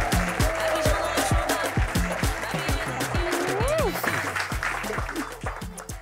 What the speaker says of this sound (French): je vais vous demander d'applaudir